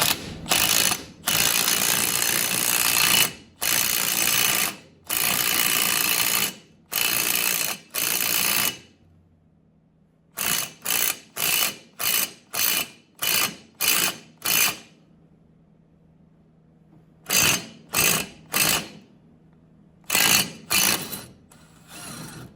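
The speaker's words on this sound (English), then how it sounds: "You tighten the lug nut down." A ratchet tightens a lug nut onto a new rear axle stud of a Ford Mustang 8.8 axle. Loud, close clicking comes in several runs separated by pauses, with a faint hum underneath and no talking.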